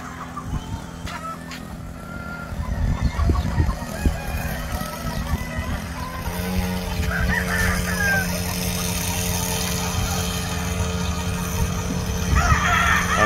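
Roosters on a farm crow and cluck over a running motor pump, with a nearby vehicle or motorcycle hum underneath and several bird calls rising through the mix.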